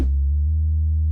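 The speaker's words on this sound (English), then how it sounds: "I actually grabbed 2 basses and both of them are from Analog Lab." A synth bass patch from Analog Lab holds one sustained, deep tone with rich harmonics for just over a second, clean and alone, with no other sound.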